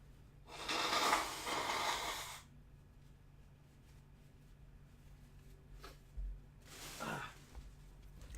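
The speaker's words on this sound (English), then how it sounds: "You guys gonna hear me blow my nose?" A person blows their nose in two loud, wet honking bursts, a long one early on and a shorter one later, with quieter sniffling and breathing in between.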